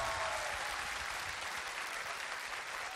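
A studio audience at the Korean music show Concert 7080 gives a big round of applause after a singer's performance, dense continuous clapping filling the whole stretch.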